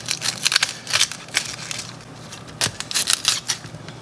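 A knife cuts cauliflower florets off the stem in quick crisp snaps and crunches, close and fairly loud, coming in clustered bursts with a brief pause midway.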